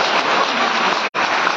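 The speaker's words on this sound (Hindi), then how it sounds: "ताली बजा दीजिए एक बार" Dense applause from an audience at a Hindi poetry recital (kavi sammelan), a continuous wash of clapping that stops for an instant and then resumes just as strongly.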